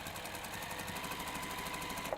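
A sewing machine runs continuously as it stitches fabric seams, its rapid, even needle chatter holding steady before a small click near the end.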